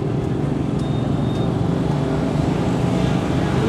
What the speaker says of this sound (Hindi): ट्रैफिक भी ज़्यादा ही है।